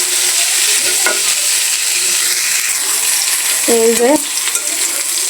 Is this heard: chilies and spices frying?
yes